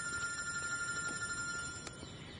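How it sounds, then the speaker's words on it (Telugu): Phone ringing with an incoming call, a faint electronic ringtone with thin repeating high tones, alone and quiet throughout. "హే, తారా కాల్ చేస్తుంది, ఆగు."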